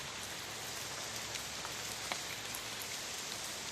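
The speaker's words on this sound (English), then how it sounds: "We've been pulling over every 5 minutes because it's raining so hard" Heavy rain pours steadily in Bohol, Philippines, a dense, unbroken hiss of drops striking surfaces with a few louder individual splashes, close and continuous throughout.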